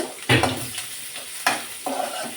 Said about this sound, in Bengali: প্রথমে রসুন কুচি দিয়ে দিয়েছি আমি তো সব কিছুতে প্রথমে বেসন কিছু দিই এরপর একটু বেশি পরিমাণে পেঁয়াজটা দিয়েছি